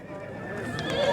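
A working horse at a livestock market neighs briefly and loudly close by, a short whinny with market noise behind it.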